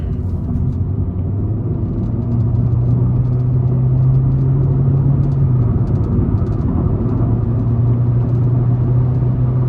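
A 2020 Chevy Spark LT with a 1.4L engine and CVT accelerates onto an interstate, its engine droning at a steady high pitch with a dip and rise partway through, over constant road rumble heard from inside the cabin.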